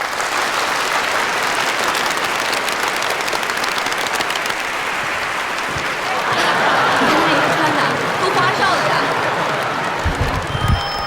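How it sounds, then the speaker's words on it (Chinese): A seated audience at a factory staff meeting breaks into steady, dense applause to welcome the next candidate to the stage, loud and sustained through the whole stretch. "大家掌声有请"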